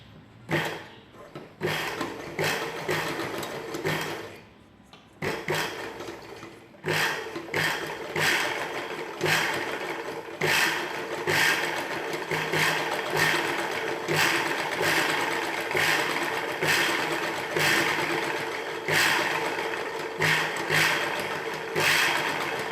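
A sewing machine stitches piping onto a blouse piece in steady mechanical runs, starting and stopping in short bursts before settling into a long continuous whir, close and fairly loud.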